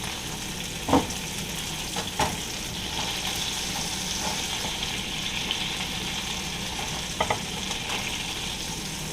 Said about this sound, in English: Alrighty, I'm going to grill the pork tenderloin on each side.